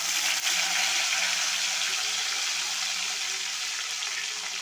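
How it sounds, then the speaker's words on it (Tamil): Mustard seeds, urad dal, cumin and fenugreek spluttering in hot oil in a pan, a steady dense crackling sizzle that continues evenly throughout, close and fairly loud, with no talking. "இப்போ எண்ணெய், கடுகு, உளுந்து, ஜீரகம், வெந்தயம் போட்டுக்கிடுவோம்."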